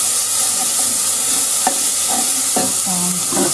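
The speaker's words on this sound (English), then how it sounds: "Just give that a stir." Minced garlic sizzles steadily in a pot for seafood chowder while a utensil stirs through it with a few scraping knocks against the pot, close and fairly loud with no talking.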